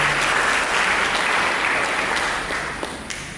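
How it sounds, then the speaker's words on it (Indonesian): A church congregation applauds during a sermon, steady close clapping filling the hall, then thinning out toward the end. "Berikan dulu tepuk tangan bagi kita."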